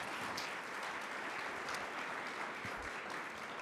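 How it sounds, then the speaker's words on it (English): Steady applause from an audience at a nonprofit sector gathering, a dense, even wash of clapping that runs unbroken through the whole stretch at moderate loudness, with no voices standing out. "So round of applause to all of you all."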